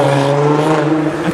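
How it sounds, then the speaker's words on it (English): A turbocharged VR6 car engine revs hard and close, its steady droning note holding strong and loud with a slight dip near the end, no voices over it. "That sounds like a VR6 turbo."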